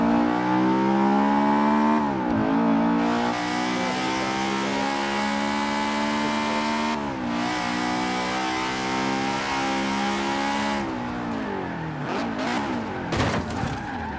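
Honda Civic CRX Mugen racing in Forza Horizon 4, its engine revving loud and steady throughout with rising pitch sweeps as it accelerates and shifts gears, alone without talk.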